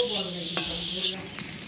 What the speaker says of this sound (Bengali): পেঁপেটাকে আমি কিছুক্ষণের জন্য ভালো করে ভেজে নিই।